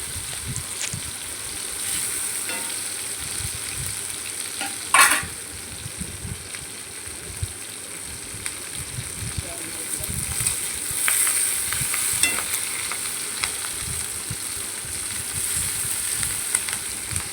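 Tomatoes and curry leaves sautéing in a pan for manathakkali kulambu, a continuous soft sizzle with occasional stirring scrapes and a brief louder clatter partway through.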